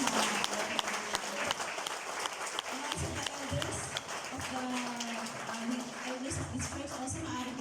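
A church congregation gathered for a thanksgiving fellowship breaks into sustained applause, dense steady clapping from many hands in a room, with voices murmuring underneath.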